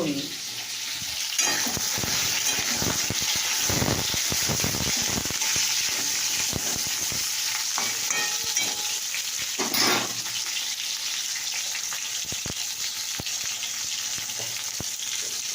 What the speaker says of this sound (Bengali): পটলটা আগে আমি ভেজে নিচ্ছি